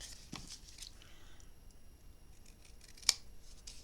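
Scissors trimming paper for a handmade mini album, a few quiet snips close by with one sharper cut near the end, in a hushed room.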